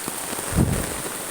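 Heavy downpour on a flooded path, a dense, steady hiss of rain drumming on surfaces close around, with a brief heavier swell midway.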